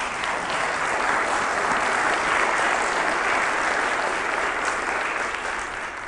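An audience claps throughout a university president's mid-year address, a loud, dense and steady round of applause that stays even from start to finish with no talk over it.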